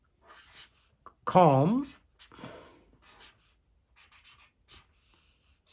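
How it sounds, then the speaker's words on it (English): A black marker squeaks and scratches across paper in short, soft strokes close up, with one word spoken partway through and quiet gaps between the strokes. "we're going to use the black marker to write"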